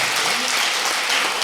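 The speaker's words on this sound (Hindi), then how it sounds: "ताली बजाओ।" An audience at a Hindi comic poetry recital claps in a loud, dense burst of continuous applause filling the short moment.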